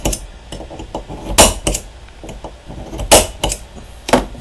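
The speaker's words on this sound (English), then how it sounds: "we're going to just punch each one of these holes right here" Sharp metallic taps ring out one after another, a punch struck into metal at an uneven pace, close up with a bright clinking edge.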